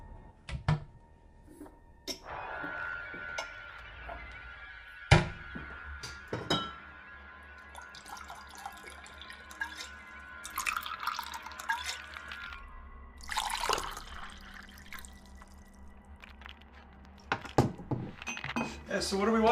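A drink is poured and glasses clink at a Halloween gathering, with trickling liquid, glassy taps and rattles, while people talk over the sounds.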